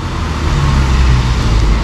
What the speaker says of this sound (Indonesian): Nah, ini mobil air galon di Arab Saudi seperti ini. Ini dari Nestle.